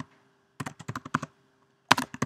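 Keys clack on a computer keyboard while text is entered in the WordPress editor. Two quick bursts of close, crisp taps are separated by a short pause, and no one speaks.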